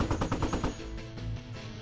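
Rapid automatic gunfire in a video game, a dense burst of repeated shots for about the first three-quarters of a second, then a lower rumbling tail of continued firing and echo, fairly loud and with no talking over it.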